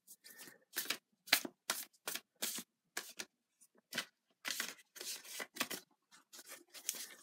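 Tarot cards riffled and snapped in quick bursts, close and crisp, with short silent gaps between bursts as cards are shuffled and drawn; no talk.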